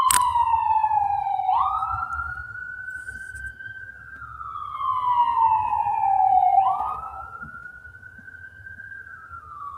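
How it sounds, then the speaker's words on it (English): An ambulance siren wails past in a steady rising-and-falling pattern, loud and fairly close, with a low rumble of road traffic beneath it and no talking. "that was a ambulance, I think"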